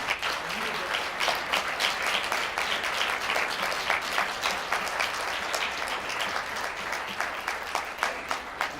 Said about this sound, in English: I'd just like to have a round of applause for Tommy Manning